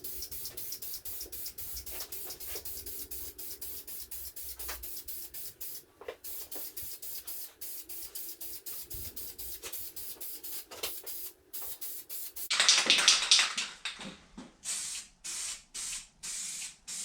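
Spray primer hissing onto Jeep bumpers: a long run of close, short repeated spray bursts with brief pauses, ending in a louder, denser hiss followed by several quick puffs.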